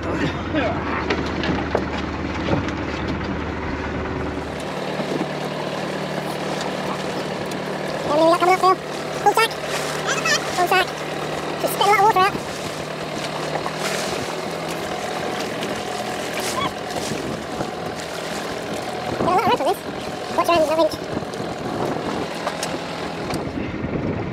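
A boat engine rumbles low and steady once it is put in gear on a scallop-hunting trip, the drone continuing beneath people talking and wind buffeting the microphone.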